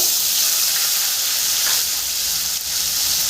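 Chopped tomatoes hit a hot pan with a loud, steady hiss and sizzle that carries on close and unbroken, with no voices.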